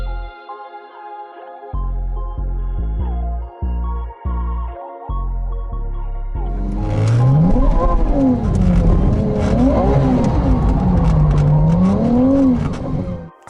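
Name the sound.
Ferrari 296 GTB V6 engine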